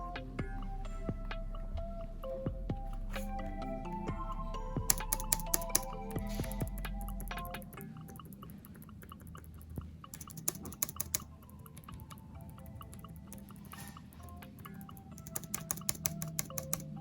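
Soft, rapid typing on a Logitech K380 keyboard carries on throughout, with clicks in uneven bursts against a quiet background.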